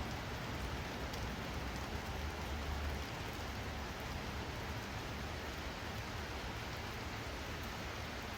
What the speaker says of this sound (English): Well, it's definitely rainy.